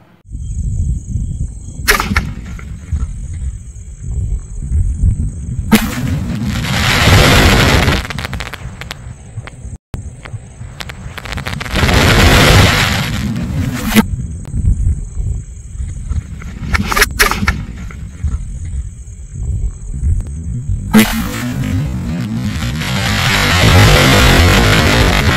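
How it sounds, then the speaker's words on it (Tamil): Sony Fireworks Silver Streak skyshot fired outdoors, bursting in several loud crackling, hissing waves separated by short lulls, with a steady high whistle-like tone running through much of it. "இப்ப நம்ம இந்த ஸ்கைஷாட்டை வெடிச்சு பாத்துருவோம்."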